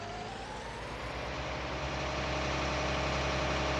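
A tractor engine in Farming Simulator 19 runs steadily at a low, heavy idle-like drone, loud and close and holding constant throughout with no talk.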